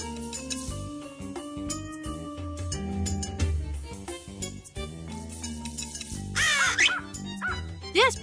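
Puppy giving short yips and high whimpering barks near a firehouse, set among music and busy cartoon sound effects, with a louder burst of yelping toward the end.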